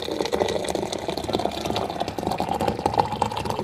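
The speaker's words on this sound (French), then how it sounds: "je vais venir donc avec l'eau brûlante, l'eau chaude, brûlante même. Je vais venir remplir la théière" Scalding hot water poured from a kettle into a teapot already holding sugar, giving a steady liquid rush with no pauses from start to finish, close and moderately loud.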